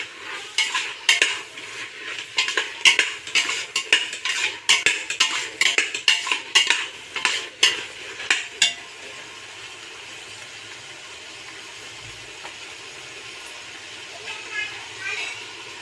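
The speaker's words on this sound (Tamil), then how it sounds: "காளான் சேர்த்து விட்டு நல்லா கலரி விடுங்க." Mushrooms being stirred into biryani in a pot, with close, clattering spoon-against-metal scrapes and knocks in an irregular rhythm for several seconds, then fading to quiet.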